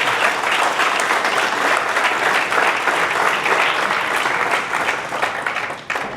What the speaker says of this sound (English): Give yourselves a loud round of applause.